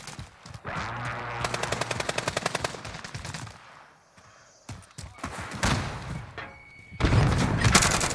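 Gunfire in the video game Call of Duty: Warzone: a long rapid burst of loud, close shots, then a few separate heavy cracks and booms, ending in a dense, loud volley.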